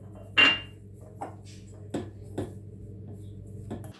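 A spoon stirs sugar and lemon juice in a bowl for a purple carrot cake, making a handful of separate light clinks against the bowl over a faint steady hum, with no talking.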